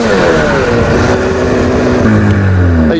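A Ski-Doo MXZ 700 snowmobile engine screams close and loud while riding fast, pitch sweeping down then climbing again as it revs hard over continuous roar.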